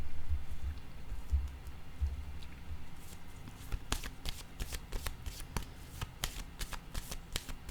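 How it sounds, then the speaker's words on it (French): A deck of cards is shuffled and drawn for a card reading: soft rustling at first, then a quick series of crisp, close snapping flicks as the cards are riffled, with no speech. "et je vais piger une carte."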